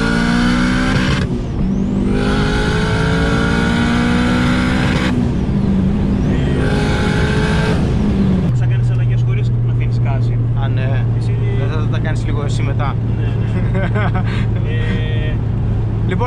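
Honda Type R with a turbo engine revving hard through rising gears, loud and close, then settling into a steady low drone while cruising, with people talking over it.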